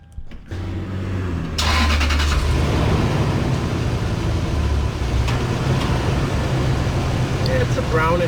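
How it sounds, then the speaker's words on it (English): A Lexus GX470 engine idles steadily while its transmission fluid is changed, starting as a faint hum and becoming a fuller, constant mechanical drone with occasional clicks, heard alongside a speaking voice. "So we'll let the car run."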